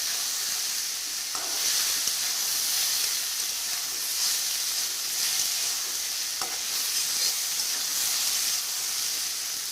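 Fried fish pieces and water lily stems cook together in a pan, giving a steady, close hiss of simmering and sizzling, with a couple of faint scraping stirs.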